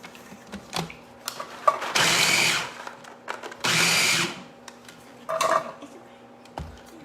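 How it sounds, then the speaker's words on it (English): A blender motor whirs loudly in two bursts of a couple of seconds each, with clinks and clatter of kitchen items around them. "Now I'm going to put the lid on the blender."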